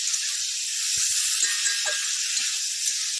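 Cauliflower and soybean chunks are tipped into hot oil and spices, giving a steady broad sizzling hiss that fills the whole moment, with a few faint clinks and stirring knocks underneath.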